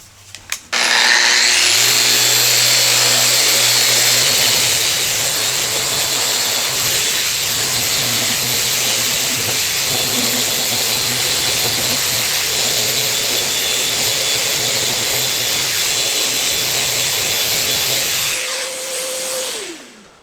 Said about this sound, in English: I've got to be careful that I don't get too aggressive with the sanding, because once again, this veneer is extremely thin.